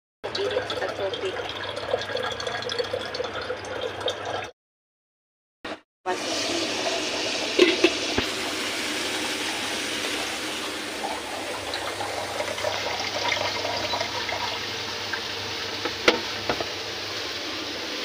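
Water poured out during home cooking, a loud, continuous gushing splash that breaks off briefly and then resumes, running steadily for many seconds.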